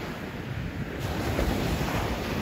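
Ocean waves wash onto the coast near Kamakura in a continuous, fairly loud roar of surf, mixed with wind buffeting the microphone and swelling slightly midway, with no talking.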